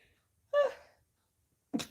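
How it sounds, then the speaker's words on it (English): A person sneezes once, a sharp, close burst rising out of quiet, followed moments later by a short breathy sound. "I have to sneeze, guys."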